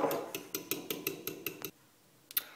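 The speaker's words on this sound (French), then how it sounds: "vous rajoutez les 25 litres de lait. Voilà. Et vous mélangez." A whisk or spoon taps rhythmically against a bowl while muffin batter is mixed with milk and melted butter, about nine quick clinks followed by a pause and a final pair of taps.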